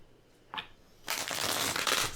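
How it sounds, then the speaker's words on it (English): Cards riffle briefly, then a longer crisp, rustling shuffle of board game resource cards runs steadily to the end, close and fairly loud. "You want to shuffle the decorations while I shuffle the resource cards?"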